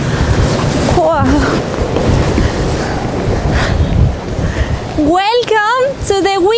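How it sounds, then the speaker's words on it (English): Strong storm winds roar and buffet the microphone beside crashing waves in the Lofoten Islands, Norway, with a loud, continuous rumble; a high whistling or crying tone rises and falls over it near the end. "Welcome to the windiest day here in Lofoten Islands."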